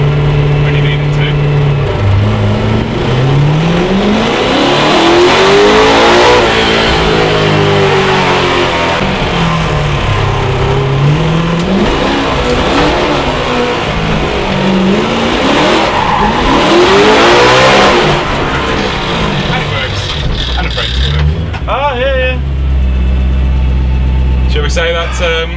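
BMW E30 M3 track car fitted with a swapped-in S65 V8, driving hard with engine revs rising and falling in repeated sweeps, loud and close, with tire noise and people talking over it.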